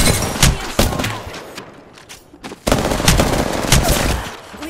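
Gunfire in Apex Legends, with rapid automatic bursts coming loud and close, a short lull, and then another sustained volley.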